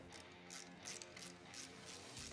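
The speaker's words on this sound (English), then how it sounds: "Now let's install the wheel and tighten up the lug nuts." Rapid ratchet clicking as lug nuts are tightened on a Textron Wildcat XX UTV wheel, a steady run of close, crisp pawl clicks in several quick bursts with no talking.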